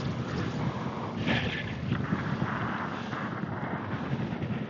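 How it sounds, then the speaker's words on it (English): Wind and sea waves wash steadily around a small sailboat out on open water, a constant broadband rush with gusty buffeting close to the microphone throughout, no voices. "it's difficult to go around on the boat because you can see here we have the waves"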